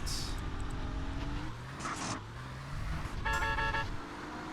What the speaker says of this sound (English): I just honk for fun